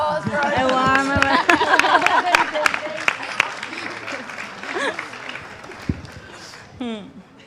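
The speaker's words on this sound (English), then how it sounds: "A warm applause for a warm" Audience applause after a film screening at a Q&A, warm and sustained, with voices and chatter running throughout and a speaking voice near the end.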